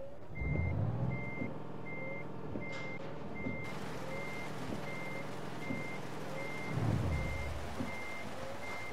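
A truck in Euro Truck Simulator 2 reverses with a steady, evenly spaced backup beep over a low diesel rumble, with occasional hisses and engine swells.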